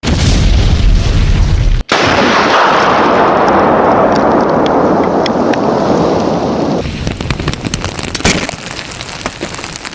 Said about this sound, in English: Husky Energy Refinery in Superior experienced a series of explosions and